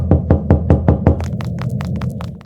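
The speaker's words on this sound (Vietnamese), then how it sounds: "Giờ thì gõ cửa thôi." Knocking on a school door in a horror video game: a run of loud, evenly spaced raps, then a quicker, lighter flurry of knocks that fades out.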